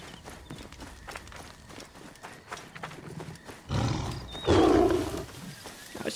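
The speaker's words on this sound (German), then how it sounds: "Einfach Angst vor Löwen." Lions roar in Assassin's Creed Origins, a loud burst rising near the end over hoofbeat-like game noise and ambient rumble, two heavy roars close together.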